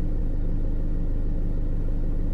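Steady, loud low rumble from the engine of a small pink miniature car, its even pulsing throb continuing unchanged with no talking over it.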